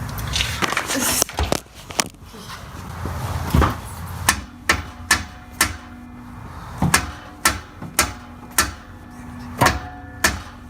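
Metal hammer strikes drive out suspension bushings on an S13 240SX rear setup, a series of sharp ringing clanks in uneven bursts, close and loud, with scraping and clatter at the start.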